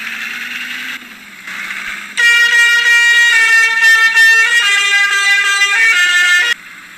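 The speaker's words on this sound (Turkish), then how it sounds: "Gördüğünüz gibi kornamızı da çalıyoruz." A loud, sustained electronic horn of a Magirus minibus in a video game blares with steady harmonic tones for several seconds, preceded by quieter synthetic engine hum.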